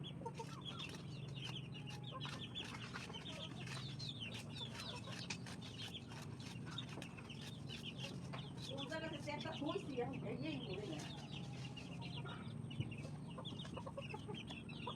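Chickens clucking on a farm, several birds heard nearby in repeated bursts over a steady background hum, with a person speaking throughout.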